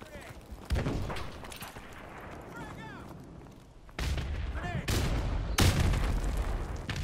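Gunfire from Modern Warfare Remastered in a Search and Destroy match on the Bog map, with several loud booming shots and bursts cutting in over a continuous game soundscape and chatter.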